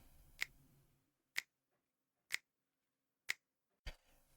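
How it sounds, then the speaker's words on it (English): Finger clicks right next to a microphone, five sharp, isolated snaps spaced about a second apart in an otherwise quiet room. "That's just me clicking my finger next to this microphone for about a minute"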